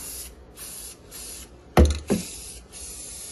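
An aerosol can sprays in several short hissing bursts up close, with a couple of sharper, louder spurts near the middle.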